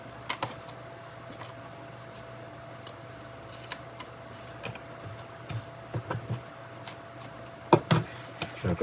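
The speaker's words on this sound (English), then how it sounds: "chop that off with my big scissors on the back" Big scissors chop through card while an A6 cupcake greeting card is being made, a run of sharp, close snips and crisp crunches at irregular intervals, clustering toward the end, in an otherwise quiet room.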